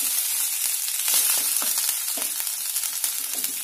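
Fresh coriander leaves sauté in a hot pan for chutney, with a steady close sizzle broken by soft scraping stirs and no voices.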